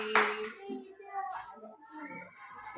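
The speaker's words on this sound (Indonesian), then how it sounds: "Tepuk tangan." Schoolchildren in a classroom give a short, faint round of hand clapping for a group that has just presented, mixed with a few scattered young voices.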